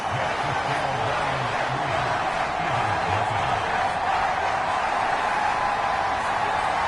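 A steady stadium crowd murmurs in Madden 24 after an opening-drive field goal in an Eagles at Lions NFC Championship game, a constant broad roar without clear peaks.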